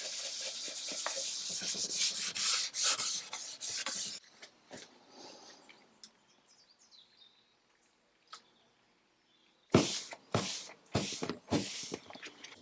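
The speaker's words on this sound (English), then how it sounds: "I'm going to use acetone and remove most of the varnish" Acetone-soaked rag rubbing old varnish off wood veneer makes brisk, close scrubbing strokes, a steady rasp at first, then quieter scattered wipes, then a few sharp bursts of rubbing at the end.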